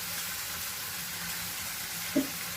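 Tomato puree cooks in a pan over a low gas flame, giving a soft, even sizzle throughout with one brief clink near the end.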